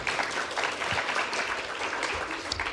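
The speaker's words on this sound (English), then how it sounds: "a big round of applause for the panel" A workshop audience applauds a panel steadily, a dense wash of many hands clapping at once for a few seconds.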